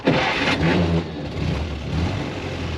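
A 1928 Chevrolet AB engine fires up from its starter button with a sharp initial burst, then settles into a close, rough-running idle with a slight rev as gas is given.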